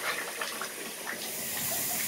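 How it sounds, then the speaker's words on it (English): Running tap water, a steady hissing rush with faint splashing texture that continues evenly throughout, heard close by with no talking. "I'm going to shut off this water real quick"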